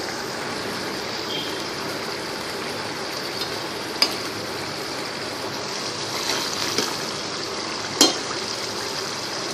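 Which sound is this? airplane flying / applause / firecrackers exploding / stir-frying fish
stir-frying fish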